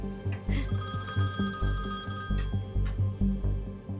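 A telephone rings at a dinner table, a steady repeating electronic ring pulsing in regular bursts, loud and close, with no voices over it.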